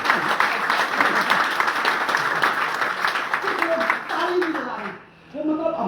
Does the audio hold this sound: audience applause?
yes